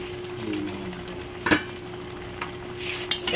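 Crab and mixed vegetables simmering in coconut milk for ginataang gulay at alimasag are stirred in a pot, with a steady bubbling sizzle, soft scraping and two sharp utensil clinks against the pan. No one speaks.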